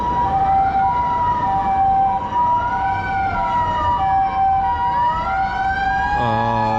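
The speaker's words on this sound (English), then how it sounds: "This is the ambulance car." Ambulance siren on a Tokyo street, loud and close, with a steady wailing rise-and-fall tone over traffic noise and a deeper horn-like blare joining at the end.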